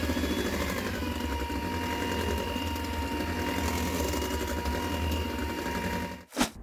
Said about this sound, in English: we are going to mix this again with my mixer, but I'm gonna go with medium speed this time